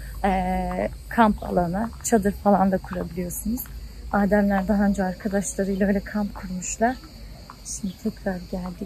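Crickets drone at a canyon campsite near Saklıkent, Fethiye. They form a steady high chirping bed beneath continuous nearby talk.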